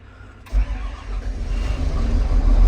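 A frozen John Deere engine cranks once, catches and starts, then settles into a steady, strengthening idle that grows louder toward the end, nearby and with no talking over it.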